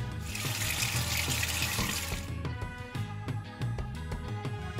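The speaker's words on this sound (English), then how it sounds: "easily wash the plate with a sponge" A tap runs in a steady gush, then the flow eases as a plate is rubbed with a sponge and rinsed, with light clinks and scrubbing taps in the sink.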